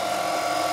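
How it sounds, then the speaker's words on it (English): A small mill drilling a hole in an engine carrier for a homemade radial Briggs engine, a steady high whine with a constant pitch throughout the short moment, close and loud with no talk. "Drilling the last hole."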